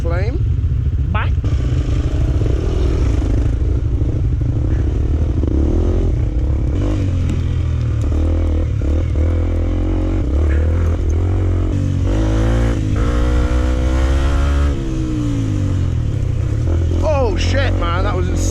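A small motorbike rides a rough green lane on Salisbury Plain, its engine droning loud and close throughout with rising revs, rattling and scraping from the rough ground.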